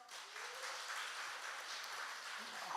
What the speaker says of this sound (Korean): 박수 쳐주셔서 감사하고요